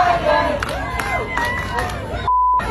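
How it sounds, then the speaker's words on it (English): Football fans in a crowd chant against the president, a loud, rhythmic collective shout mixed with crowd noise, ending in a short censor beep. "you can hear fans chanting against the president."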